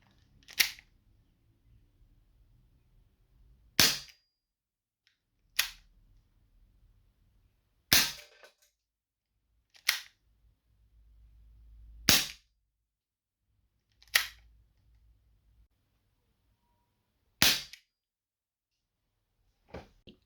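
Airsoft gun shooting plastic BBs, eight sharp, close snapping shots spaced a couple of seconds apart with quiet gaps between them and no talking.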